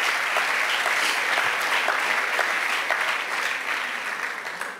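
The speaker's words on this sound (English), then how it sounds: "Can we have a round of applause?" Lecture audience applauding a talk on inclusion, a dense, steady wash of many hands clapping close and loud for the whole stretch, easing slightly toward the end with no voices on top.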